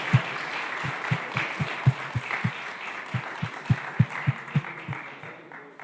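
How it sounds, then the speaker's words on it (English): A conference audience at DeSci Berlin 2025 applauds a winner being announced: a broad wash of clapping with regular low thumps beating through it, fading slightly toward the end. "Applause."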